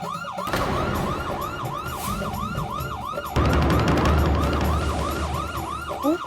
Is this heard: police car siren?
yes